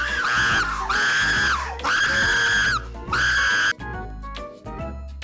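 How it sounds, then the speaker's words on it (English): A person screams in loud, sustained shrieks, three long held cries with brief breaks between them, followed by rougher, choppier yelling near the end. "Stop screaming!"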